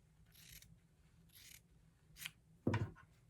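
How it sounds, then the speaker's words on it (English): Fabric is trimmed with scissors along a marked line for a Christmas stocking ornament: three quiet, crisp snips, then a louder final cut, with soft rubbing in between. "Now I'm going to trim on this line."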